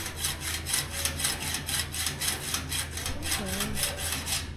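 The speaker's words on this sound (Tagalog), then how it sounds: "Man, hindi din pala simple yung mga ginagawa ng mga magnanakaw, yung mga naglalagari ng ganito" A hand saw cuts through bars in steady, rhythmic back-and-forth strokes. The rasping is close and continuous, with no voices.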